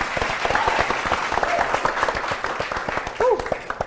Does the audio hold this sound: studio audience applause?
yes